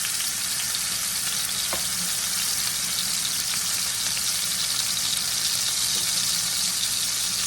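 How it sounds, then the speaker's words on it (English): A large steak searing in vegetable oil in a skillet gives a loud, continuous, close sizzle with a few brief pops and no talking. "I'm going to place my steaks in the skillet"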